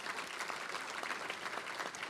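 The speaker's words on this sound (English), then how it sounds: "please give Tom a round of applause." Applause at an athletic hall of fame induction ceremony: a faint, even patter of many hands clapping, continuous throughout, heard from a distance in a hall.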